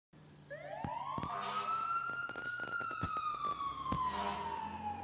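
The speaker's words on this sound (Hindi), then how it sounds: "बाहर वो फायर ब्रिगेड, कुछ हुआ है क्या?" A fire engine siren in a TV advertisement wails in one long rising and falling sweep, loud and near, broken by sharp clicks and bursts of ambient noise, with no talk over it.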